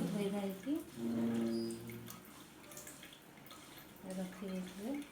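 Water splashing and dripping as turmeric leaves are washed by hand, close and fairly faint, running throughout under occasional talking.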